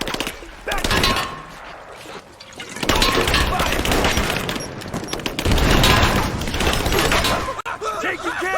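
Sustained gunfire crackles through a Rise of the Tomb Raider battle, with dense bursts of rapid shots separated by short quieter gaps, and voices calling out over the shooting.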